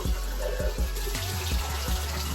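Water poured out of a Naväge nasal irrigation reservoir into a sink, splashing close and continuous with a few uneven gulps.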